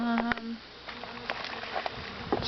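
Bees buzz nearby, a steady droning hum with individual insects passing close and faint ticks and taps around them.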